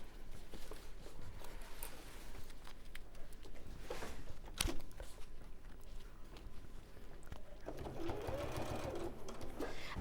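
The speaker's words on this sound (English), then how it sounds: "I'm going to sew the handles on it." A sewing machine stitches handles onto a cushion, its quiet steady whir running in a soft continuous stretch with brief pauses, while a person talks over it.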